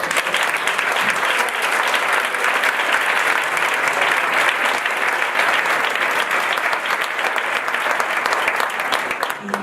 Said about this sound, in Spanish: les demos un aplauso a todos ellos